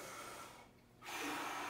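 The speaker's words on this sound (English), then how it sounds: "On 3, take in a 2 count breath." A single quick breath drawn in before playing a brass instrument, a soft airy rush that swells and then gives way to a brighter, louder intake near the end, close and with no voices.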